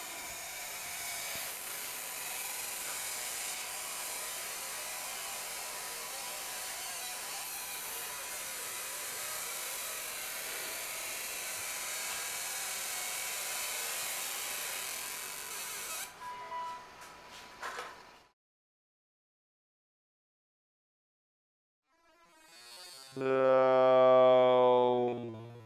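A ComMarker B4 fiber laser marks the coating on a metal part, giving a steady hiss for about sixteen seconds. It then stops and goes silent. A short rising tonal beep pattern follows near the end.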